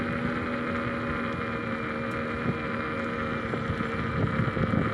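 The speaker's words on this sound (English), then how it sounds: "Little side wind kicking me." Steady, fairly loud wind rush and buffeting against the microphone during a rail-trail bike ride on a chilly evening, constant throughout with no talking.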